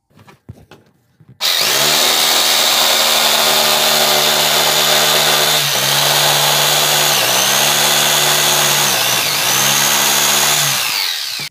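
Jigsaw fitted with a clean-cut blade sawing through coated melamine chipboard: a loud, steady buzzing cut that starts abruptly after a few light knocks and holds for about ten seconds, with slight dips in pitch as the blade bites.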